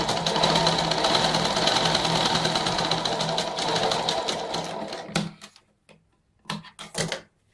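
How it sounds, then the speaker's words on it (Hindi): A sewing machine runs a long continuous stitch along the folded drawstring channel of a Patiala salwar, loud and steady for about five seconds, then stops and gives a few short bursts. "अब इसके ऊपर से सिलाई फेर देंगे।"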